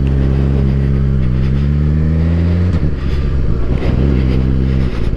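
A Suzuki GSX-R1000R sport motorcycle engine runs loud and steady close by, its pitch rising and falling as it is revved and ridden, with a brief dip midway.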